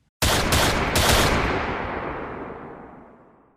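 A loud, close burst of three rapid gunshots from a shootout in an audio drama, the last blast trailing into a long echoing decay, with no talking.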